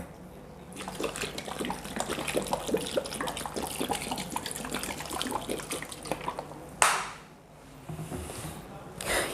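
RO water splashes and trickles into a vegetable bowl with a busy, bubbling pour, followed by a short clunk and a final burst of pouring.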